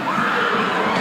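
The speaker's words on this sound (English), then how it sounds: "And listen to that crowd." Steady roar of a wrestling arena crowd cheering for Bruiser Brody, a dense, even wall of voices throughout the brief moment.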